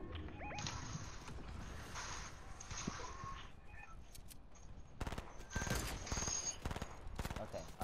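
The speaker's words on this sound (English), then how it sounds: "Who's shooting me?" Gunfire rattles in a Fortnite match, rapid bursts of shots and crackling fire that swell louder toward the end, with a voice speaking over the action.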